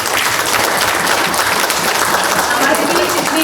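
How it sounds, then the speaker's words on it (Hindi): Loud, dense applause from a large crowd, steady and continuous throughout with no pauses. "तालियां रुकनी नहीं चाहिए।"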